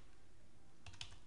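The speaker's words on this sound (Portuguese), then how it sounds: "Observem que eu vou usar o teclado, não vou usar muito o mouse" Several quick keystrokes on a computer keyboard, faint and close, near the end of a quiet stretch while patient details are being entered.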